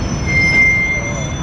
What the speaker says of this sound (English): The train has come to an absolute crawl.